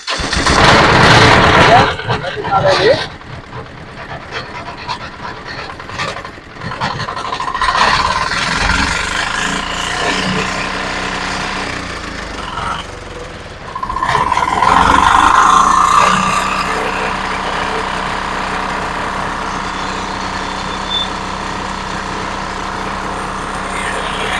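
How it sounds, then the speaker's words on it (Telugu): A Piaggio Ape BS6 auto rickshaw engine cranks and fires up, then settles into a rough idle with a second rev partway through, close and loud, with people talking over parts of it. "బండి వస్తే స్టార్ట్ చేద్దాం"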